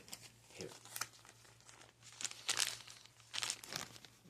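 A plastic bag of dried herbal product crinkles and rustles in several irregular bursts, close and moderately loud, with a faint steady hum underneath and some talking in the background.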